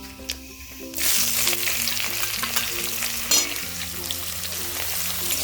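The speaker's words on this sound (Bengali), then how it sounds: "ঠিক এই পর্যায়ে দিয়ে দেবো আগে থেকে কেটে রাখা পেঁয়াজগুলোকে" Chopped onions drop into hot oil tempered with five-spice seeds, bursting into a loud, steady sizzle that carries on under low background music, with a sharp stirring scrape partway through, for a rustic Bengali greens curry.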